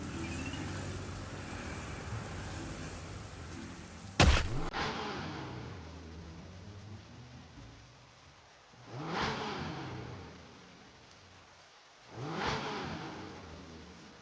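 A car rolls along with a steady engine drone, then a sharp jolt cuts in as it lurches to a stop. The engine settles to a low idle, and two swelling surges follow, like attempts to rev out of a hole.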